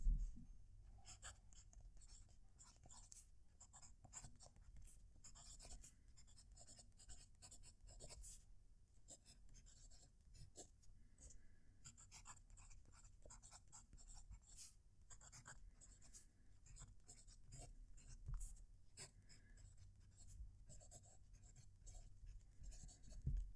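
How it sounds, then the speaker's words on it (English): A fountain pen writes on Fabriano paper, close and quiet, with a continuous soft scratchy drag broken into short strokes and taps over about twenty seconds, and no voices. "Let's do some writing."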